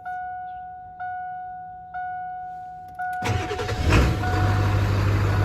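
A 1994–97 Ford F250 with a 7.3 diesel starts up. Four slow, even warning chimes sound first, then the engine cranks and catches into a loud, close diesel idle.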